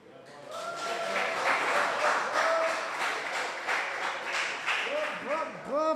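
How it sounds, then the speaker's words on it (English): Sustained audience applause and clapping fill a crowded room at a rap battle semi-final, loud and continuous, with shouts and an MC's voice calling out over the noise. "Everybody, a round of applause, keep it going, keep it going."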